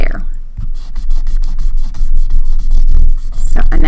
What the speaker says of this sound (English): So now I'm rubbing pretty hard.